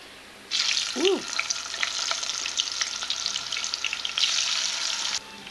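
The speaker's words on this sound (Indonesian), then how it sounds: "Ini aku goreng ya, setengah matang aja semuanya." Food fries in a pan, half-cooked, with a loud, steady sizzle that starts abruptly and keeps crackling for several seconds before cutting out near the end, along with a brief higher tone early on.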